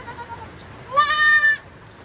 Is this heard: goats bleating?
yes